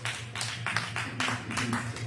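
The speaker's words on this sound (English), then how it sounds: "Clap for Brady." A comedy club audience claps for a departing comedian, with a dense, close wash of applause in uneven bursts and a low hum underneath.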